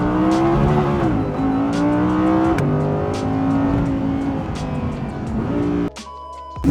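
A 2022 Audi R8 Coupe with a 5.2 FSI V10 revs hard and accelerates through rising and falling gear pulls, loud and close, ending abruptly in a quieter idle-like tail.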